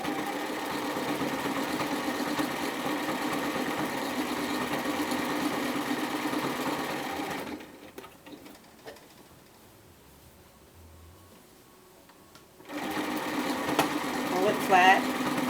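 A home sewing machine stitches bomber jacket fabric, running steadily up close, pausing for several seconds midway, then starting up again, with faint bird cooing in the background.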